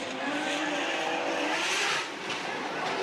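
Formula Drift Japan cars running in close tandem, a dense, steady roar of engines and tire noise that holds loud for about two seconds, then dips slightly and carries on, with a commentator's voice faintly mixed in.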